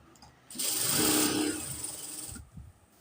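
A sewing machine stitches a pleated nighty in one close, steady whirring run of about two seconds, with quiet handling noises before and after.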